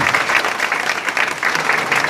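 Wedding guests applaud the bride María Alicia, loud, close clapping with individual hand claps audible in a lively, slightly uneven patter.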